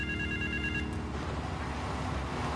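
A telephone rings in Grand Theft Auto III, its steady electronic trill standing out for about the first second before fading under a dense game background of rumble and ambience.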